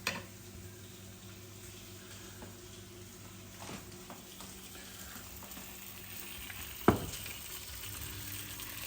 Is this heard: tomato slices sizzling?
yes